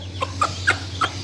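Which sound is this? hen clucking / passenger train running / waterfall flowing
hen clucking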